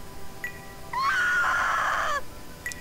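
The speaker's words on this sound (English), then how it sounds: "that was the worst scream I've ever heard" A character in the video game Arc Rise Fantasia lets out a shrill, strained scream of about a second, loud and close, with faint chirps just before and after.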